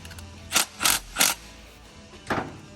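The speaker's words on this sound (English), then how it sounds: "I'm going to tighten the flanges into each other" Exhaust flange nuts on a Suzuki Jimny JB74 being tightened with a spanner: four short metallic ratcheting clicks, three in quick succession and one after a pause, close by and moderately loud.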